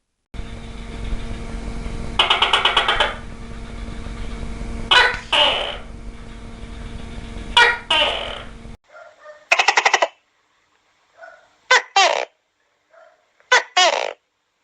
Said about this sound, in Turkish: sosyal etkileşimlerinde tıklamalar, cıvıltılar, havlamalar ve diğer seslerle ses çıkarabilirler